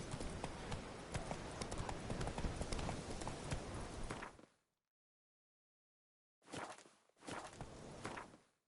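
Horse hooves from The Witcher 3 clip-clop at a steady walking pace, fairly close and clear, breaking off into silence for a couple of seconds before a few more hoof steps resume.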